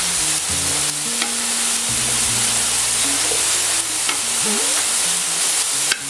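Paprika and other spices toast in a hot pan, a continuous close sizzle with a few stirring scrapes and light clinks, no voices.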